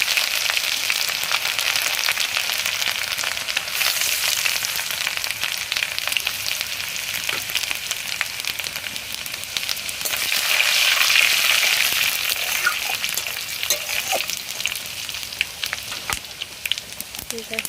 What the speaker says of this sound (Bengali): আদা রসুনের পেস্টটা ভাজা ভাজা মতোই হয়ে গেছে।